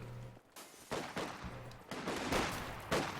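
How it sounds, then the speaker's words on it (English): Rifle fire crackles in a World War II real-time strategy match, several bursts of shots, some sharp and closer, others muffled, spaced unevenly over a few seconds without talk. "Looks like those rifles were trying to shoot at it"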